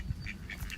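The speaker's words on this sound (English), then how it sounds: "Ducks are here, enjoying their siesta." Ducks in a Tokyo park give a few soft, distant quacks over faint outdoor background noise, with no voices.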